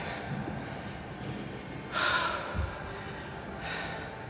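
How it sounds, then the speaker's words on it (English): Someone catching breath after an abs workout, steady heavy breathing with a louder gasping exhale midway, close to the microphone. "Let me catch my breath."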